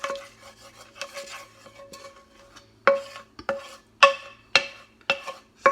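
A utensil scraping parsley and dumpling mixture out of a metal pan, a series of sharp metallic scrapes and clinks, irregular at first and then several louder, ringing strokes in quick succession, close and without talk.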